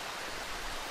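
Steady rain in the horror game Darkwood, a dense, even hiss of falling water that fills the whole moment with no talk over it.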